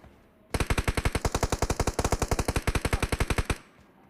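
A rapid, evenly spaced burst of automatic gunfire from a robot in a PUBG match, about thirty shots over three seconds, loud and close with nothing else audible.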